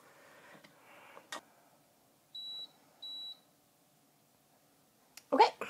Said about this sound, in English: that beep right there tells me that the elements here on top and bottom are up to temperature